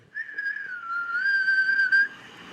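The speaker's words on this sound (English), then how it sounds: "My weak ass whistle." A single sustained human whistle, a clear steady tone held for about two seconds with a slight waver, alone and close.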